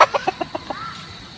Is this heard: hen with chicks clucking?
yes